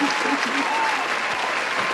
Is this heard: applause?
yes